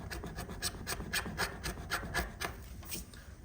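A blade scoring a scribe line into a primed bare-metal test panel coated with DTM epoxy primer, a close, rhythmic series of about a dozen scraping strokes at an even pace, alone and without talking.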